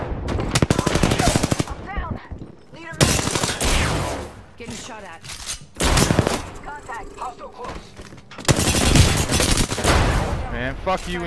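Apex Legends gunfights erupt in loud, fast bursts of rapid automatic fire, broken by brief pauses and scattered heavier blasts, with voices talking between the volleys.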